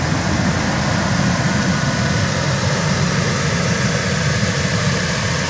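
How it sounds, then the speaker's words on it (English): A 1999 Ford E350 XLT extended 15-passenger van idles with a steady, even rumble and broad hiss, continuous and unchanging throughout, with no talk over it. "Okay, the engine is running. Started right up."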